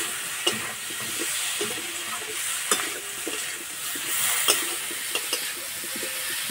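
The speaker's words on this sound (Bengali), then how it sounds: "আলুর সঙ্গে মশলা ভালো করে কষিয়ে নেব।" Potatoes with turmeric, chilli powder and a splash of water are sautéed in a pan: a constant close hiss of frying runs throughout, broken by occasional sharp scrapes of a spatula, with no voices.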